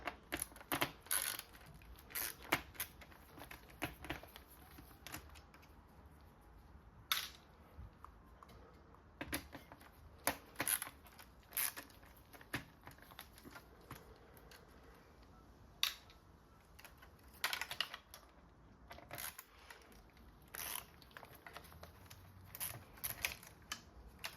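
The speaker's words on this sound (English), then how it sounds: "For this I'm removing, looks like 4 screws." Screws being removed from a Pioneer XDJ-RX2 DJ controller during cleaning, with scattered sharp close clicks and small metallic taps at irregular intervals against a quiet background.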